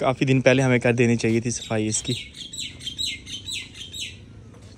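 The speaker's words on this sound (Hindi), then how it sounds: "चिड़िया बोल रही है" Small birds chirp repeatedly around a village house kitchen in rural Pakistan, bright tweets continuing as someone talks over the first half, then carrying on alone.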